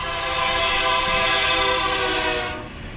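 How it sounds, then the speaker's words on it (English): A train horn blares inside a railway tunnel, a loud sustained chord that holds steady for a few seconds and then fades near the end, with no voices. "the blaring sound of the horn could be heard from directly behind them"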